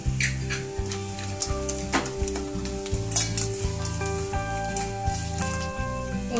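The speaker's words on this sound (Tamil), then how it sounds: "10 பல் முந்திரி இதையும் சேர்த்து நல்லா வதக்கிக்கோங்க." Onion, coriander powder, chili powder, poppy seeds and cashews sizzle as they are stir-fried in sesame oil in a kadai, a steady frying hiss under loud background music.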